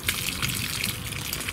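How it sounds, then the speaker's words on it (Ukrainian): Water pours onto a freshly planted seed in a short, steady splashing gush, close and fairly quiet, with no talking. "тепер на водичку і полий, щоб воно виросло"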